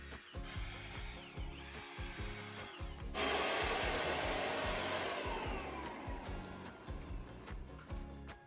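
Sandpaper rubs over a Toyota HiAce van body during a DIY full repaint, with steady back-and-forth scratching strokes that are close and continuous. A brief louder hissing burst sounds partway through.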